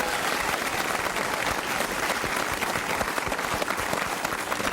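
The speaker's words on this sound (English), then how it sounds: "Ladies and gentlemen, a round of applause for Vardos." A television game show's studio audience claps in a dense, steady burst of applause that stays loud and even throughout, with a faint murmur of crowd beneath.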